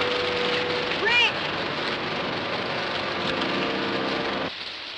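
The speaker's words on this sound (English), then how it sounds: "There's your rain, but good." Steady rain from a 1955 film pours down as a dense, even hiss, with a brief rising tonal effect early on and faint voices beneath before the downpour drops away near the end.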